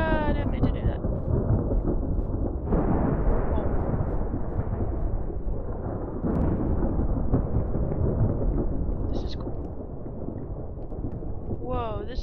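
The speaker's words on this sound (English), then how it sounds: "This is what a small bomb does." A small bomb from a Minecraft mod detonates, producing a loud, continuous rolling rumble like thunder that carries on without a break and swells again partway through.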